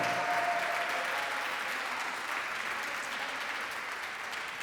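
Applause from a live jazz concert audience in New York, a dense continuous clapping wash that holds steady throughout and eases off only slightly at the close.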